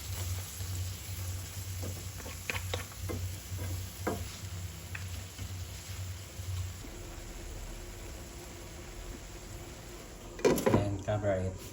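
Buttered garlic vegetables and shrimp are stirred in a pan with a little water: scattered close utensil scrapes and clacks over a soft simmer, ending in a louder clatter, with a person talking.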